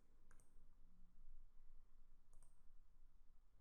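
Two quiet, crisp mouse clicks on a Save Changes button in office software, spaced about two seconds apart over a faint room hum.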